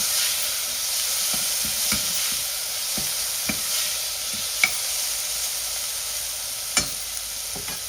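Garlic and tomatoes fry in a pan over a low gas flame, giving a steady close sizzle with scattered sharp stirring clicks and taps of a utensil against the pan.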